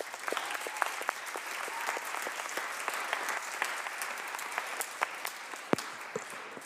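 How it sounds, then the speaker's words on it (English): Steady applause from a seated audience of student poets at a state poetry recitation competition, dense and even throughout with no voices standing out. "Give yourselves a round of applause"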